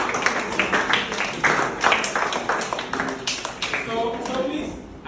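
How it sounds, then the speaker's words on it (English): Students at an educational workshop burst into clapping, a dense patter of hand claps that swells and fades over several seconds, with voices talking and cheering over it. "let's clap for that."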